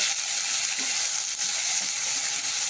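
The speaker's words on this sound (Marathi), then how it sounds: "हे पण मग टाकायचं हे भाजलेले आपण चांगले सोलून पांढरे करून घेतलेले शेंगदाणे. छान परतायचे 1 मिनिटभर." Roasted, peeled peanuts sauté in a pan while jowar flour upma is being made, giving a continuous close, even sizzle with light stirring.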